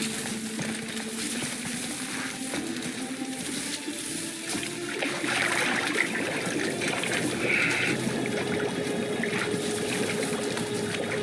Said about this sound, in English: Now, hold his head under the water and don't let go.